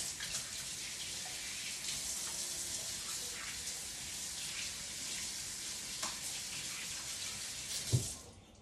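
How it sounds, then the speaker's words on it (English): Hands being washed under a running tap, a steady close rush of water with a few faint splashes and a small knock near the end. "oh, I gotta wash my hands first."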